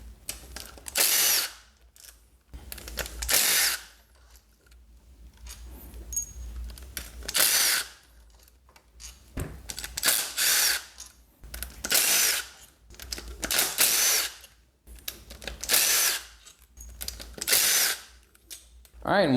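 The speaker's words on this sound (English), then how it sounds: "Now we can continue on removing all the bolts, starting with the one inside here first." A power drill spins out the bolts on the stator cover of a 2006–07 Suzuki GSX-R 600/750 motorcycle. About a dozen short, loud whirring bursts repeat at close range with quiet gaps between them.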